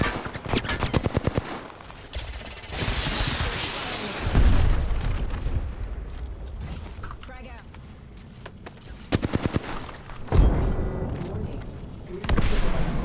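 Explosions and gunfire from a frag grenade fight in the video game Apex Legends during an end-game ring, with sharp bursts of rapid shots and several deep booms spread through the clip while players talk over the action.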